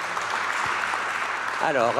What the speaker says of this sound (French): on peut applaudir et la question et la réponse